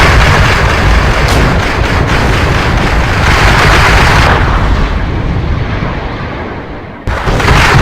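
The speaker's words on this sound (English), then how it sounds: "I'm still under artillery fire." Loud, sustained artillery fire in a modern tank combat game, a dense roar of booming impacts that thins and dips briefly before surging back.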